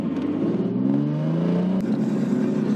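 Inside an Infiniti G35 drift car on a circuit ride-along, the engine revs hard and climbs in pitch under acceleration, loud and continuous from the cabin.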